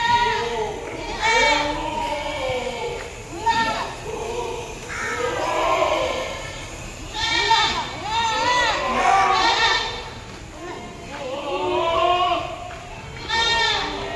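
Goats, including an Alwari cross buck, bleat repeatedly at the Deonar livestock market, overlapping calls near and far amid crowd chatter and people talking close by.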